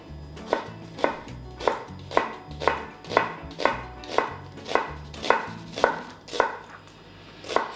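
Half an onion is chopped with a knife on a board: about a dozen steady, evenly spaced crisp thunks, close and alone with no talk.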